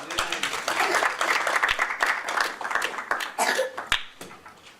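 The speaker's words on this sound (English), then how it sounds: "Can we give her a round of applause again," An audience at a Commonwealth programme event gives a speaker another round of applause, uneven clapping with sharp individual claps and some coughs mixed in, rising and falling over a few seconds.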